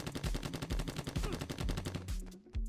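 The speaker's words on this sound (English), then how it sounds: "I also added a muzzle flash when the players shoot and a trail that traced the bullet path" Rapid, rhythmic gunfire from a Contra 3D video game, steady repeated shots layered over a pulsing game soundtrack, loud and continuous before thinning out near the end.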